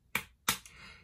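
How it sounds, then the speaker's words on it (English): Two sharp hand claps a beat apart, close and crisp, then a faint third tap as a children's music lesson claps out a song's rhythm, no talking. "this time let's clap the rhythm"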